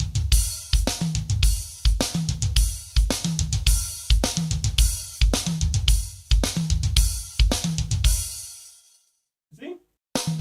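A drum kit flexibility exercise played on a full kit: steady repeating pattern of punchy kick and snare strokes with cymbal wash in a driving rhythm, loud and close, ending abruptly before a brief murmur of voice.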